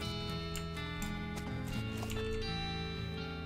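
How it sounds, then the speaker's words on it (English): A ghost horse in the video game West of Loathing whinnies as it is approached, an airy neigh over a steady clip-clop rhythm and soft game music. "Ghosting whinnies as you approach."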